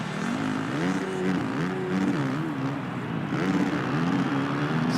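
A Monster Energy Supercross 3 dirt bike screams at virtually full throttle on a penultimate race lap, its high engine note wavering steadily as gears and revs shift, loud and continuous with no talk.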